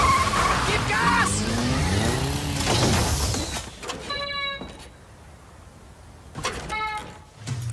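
A car revs and speeds off, tires squealing in a loud skid, followed by sharp metallic rattles, with voices shouting over the start.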